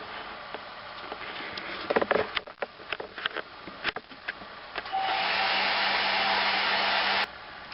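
A hair dryer blows steadily from about five seconds to just past seven, drying sponged base-coat paint for decorative painting; before it starts come a few soft clicks and handling noises, with no talk.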